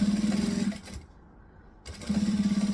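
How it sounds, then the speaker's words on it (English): A sewing machine top stitches a seam on a fleece-lined fabric clutch, running in a steady close buzzing hum, pausing briefly in the middle, then starting up again. "So again, seam on the outside, top stitch it along."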